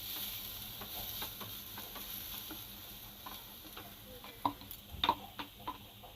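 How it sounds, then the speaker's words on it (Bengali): Chopped onions fry quietly in a pan for an aloo masala, a soft low sizzle with a few sharp clicks and utensil taps near the end. "আলুর মশলাটা আমি ভালো করে পেঁয়াজ ভাজবো"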